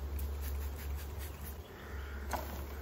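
Steady honey bee buzzing hums close by as a hive frame is handled, a dense droning swarm with faint clicks and rustles over a low rumble.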